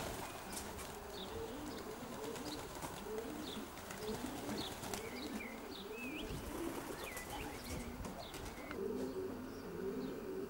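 Racing pigeons in a loft housing young birds, roundabout pairs and widowed cocks, with steady low cooing throughout, scattered chirps and occasional wing flaps over a continuous room ambience.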